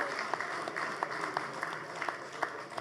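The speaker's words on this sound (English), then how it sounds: "Let's clap for them." Applause from the audience at a bank's annual general meeting hall, a steady wash of clapping hands, moderately faint and fairly distant, with no talk over it.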